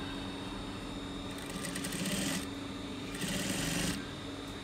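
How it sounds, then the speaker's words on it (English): A sewing machine stitches the waistband of a poly cargo short in two short bursts, the motor whirring steadily close by with a quiet room hum between runs. "I'll be stitching on top of here."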